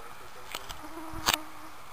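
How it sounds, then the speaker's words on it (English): Mosquito buzzing close by outdoors during a storm, a thin whining drone with brief louder passes as the insect flies near, plus a couple of faint clicks. "Mosquitoes, oh. God damn mosquito."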